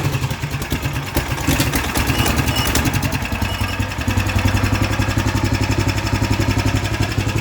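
A 1988 EZGO golf cart fitted with a Predator 420 engine and an aftermarket mini bike exhaust runs steadily nearby, its loud, even engine drone holding a rough pulsing clatter with a slight shift in pitch partway through.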